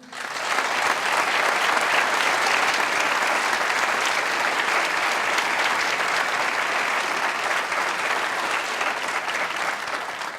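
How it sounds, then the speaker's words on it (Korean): Loud, sustained applause from a crowd at a church leadership conference in Bogotá, Colombia fills the whole stretch, dense and even, fading slightly toward the end. "Un aplauso fuerte para el Señor."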